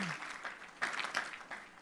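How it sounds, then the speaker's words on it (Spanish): A church congregation claps together during a sermon, a dense, steady patter of many hands close by that swells briefly midway, with a faint voice at the very start. "Denle un aplauso fuerte al Señor."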